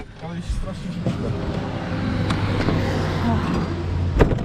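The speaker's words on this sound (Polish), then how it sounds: "Jest tu strasznie hałas. Tutaj jest jakaś droga autobusowa. więc jest to naprawdę duży ruch." Steady road traffic roars from a busy nearby bus route in winter near Zakopane, a loud continuous rumble with a few passing swells, heard outdoors under a person talking.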